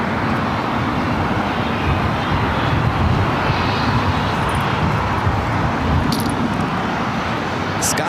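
A United Airlines Boeing 757-300 headed to Honolulu rolls for takeoff on the south side of LAX, a loud, sustained jet engine roar with broad rumbling noise that holds steadily throughout.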